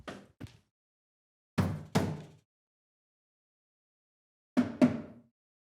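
Three pairs of firm knocks on a wooden door, each pair sharp and close, separated by silent pauses.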